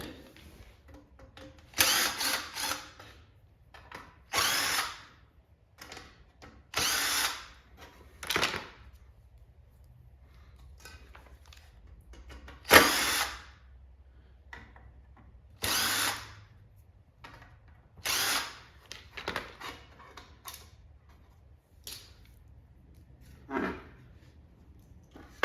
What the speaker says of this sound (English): Actually, I'm gonna grab my drill.